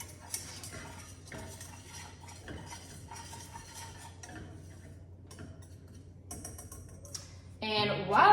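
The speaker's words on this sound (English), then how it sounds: "I'm just gonna whisk this all up until the butter is all melted and it makes a paste" A whisk ticks and scrapes lightly against a pot as butter and flour are beaten into a roux for gluten-free scalloped potatoes. The strokes are soft and irregular, with a brief louder rush of sound near the end.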